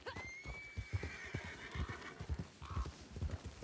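Horse in Red Dead Online gives a long, clear whinny while hooves clop in an irregular rhythm underneath, then a shorter second call, fairly quiet overall.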